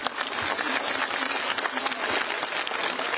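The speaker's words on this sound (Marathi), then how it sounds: "मी आपल्या सर्वांच्या वतीनं आदरणीय गिरीश भाऊंचं मनापासून आपण टाळ्या वाजवून अभिनंदन करू" An audience applauding to congratulate Girish Mahajan, dense steady clapping from a crowd that holds at an even level for the whole stretch.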